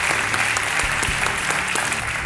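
Steady, dense applause from a television quiz show studio audience, a continuous wash of clapping hands with no pauses.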